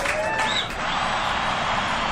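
Audience applause for a comedian: a dense, even wash of many hands clapping at moderate volume, steady for the whole stretch with a brief dip early on.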